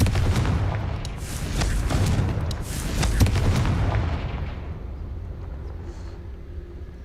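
Spell blasts from the Incendio and Confringo casts in Hogwarts Legacy, a dense run of loud booming, crackling explosions over the first four seconds that then fade into a low rumbling tail.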